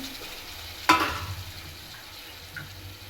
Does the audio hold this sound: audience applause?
no